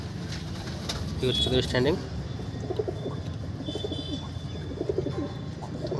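Pigeons coo softly in a loft, repeated low throaty calls with a few chirps, moderately close, while someone talks over them.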